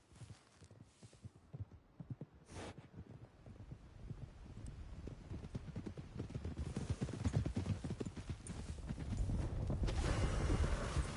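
Horse hooves clip-clop in the video game Red Dead Redemption 2, a rapid rhythmic galloping beat that grows steadily louder and fuller over the stretch, with wind rushing underneath.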